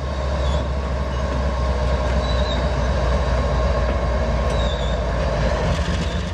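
An empty HO scale model coal train runs steadily along a layout, giving a continuous rolling rumble with faint wheel squeals, close and unbroken.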